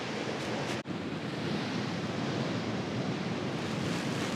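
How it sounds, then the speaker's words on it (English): Winter sea waves surge against the side of Cromer pier in Norfolk, a loud, continuous broadband wash of surf with wind noise on the microphone and a brief dropout near the start. "The water's still larruping up against the side"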